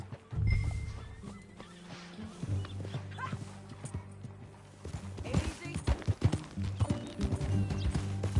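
Horse hooves clip-clop steadily while riding in Red Dead Redemption 2, a close, rhythmic clatter that picks up pace toward the end, with a brief spoken word and ambient game sound underneath.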